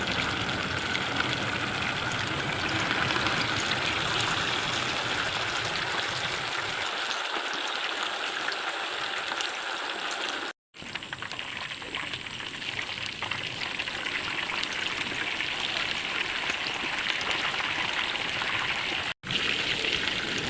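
Chicken pakoda pieces deep-frying in hot oil, a dense continuous crackling sizzle that stays loud and close throughout, with two very brief dropouts.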